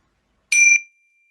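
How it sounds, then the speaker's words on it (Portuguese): A single bright bell chime rings once to close a meditation, a clean metallic strike that rings for a moment and fades quickly into silence. "E aí depois do toque do sino,"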